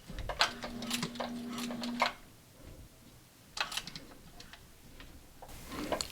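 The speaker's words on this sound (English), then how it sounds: "sew a line and go over the elastic maybe twice or 3 times to make sure it's secure" Sewing machine stitching elastic onto a fabric mask, quiet bursts of rapid ticking stitches with a faint motor whine, pausing between runs.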